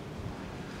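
Wind gusts across the coast near the 1712 Zuytdorp shipwreck site, a steady low roar of buffeting noise with a hint of surf, close to the microphone and unbroken for under a second.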